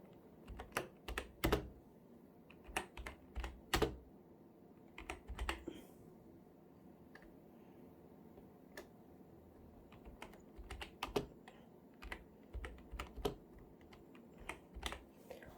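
Keystrokes on a computer keyboard tap out in irregular bursts and clusters, crisp and close, separated by quiet pauses, with no talking over them.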